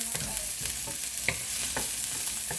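Onion and garlic sauté in hot oil for fish sarciado, a continuous close sizzle broken by rhythmic spatula scrapes and taps against the pan, with no talking.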